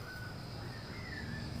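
A bird calls at night in a cemetery, with a few harsh, faint cries rising above a steady low background hiss.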